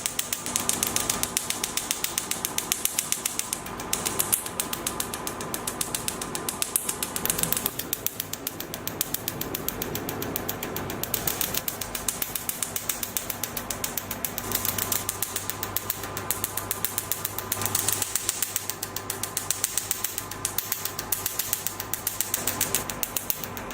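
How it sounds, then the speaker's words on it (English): Portable PicoClear laser firing rapid pulses onto carbon gel for tattoo and pigment removal, a fast even train of sharp mechanical clicks repeating nonstop at a steady rate, close and alone. "Tread the foot pedal to start the operation. Blasts the carbon gel at an even rate."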